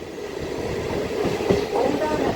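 MMTS local train running on the tracks between Secunderabad and Kacheguda, a steady loud rumble with rhythmic wheel clatter, heard from inside a carriage.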